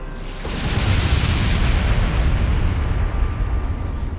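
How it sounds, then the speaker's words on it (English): Carpet bombing in the Halo Wars strategy game: a sustained, loud, low rumble of overlapping explosions that swells after a brief quiet start and rolls on continuously, with no voices. "Carpet bomb."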